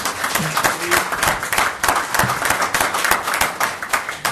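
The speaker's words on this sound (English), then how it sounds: "Round of applause, people." Applause from the audience at a city council meeting, a steady patter of many hands clapping for about four seconds, with brief voices cutting in over it.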